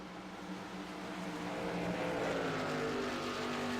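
Race cars roar around a track at a night race with 28 cars running, a steady dense engine drone that swells slightly louder as the pack draws nearer, with no voices over it.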